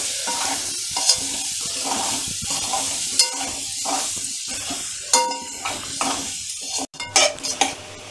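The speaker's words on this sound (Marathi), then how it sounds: "बघा छान अशी परतून घ्यायची." Kohlrabi pieces stir-fried in a spiced oil tempering give a steady close sizzle, broken by repeated scrapes and clinks of a spoon against the pan, with no voices.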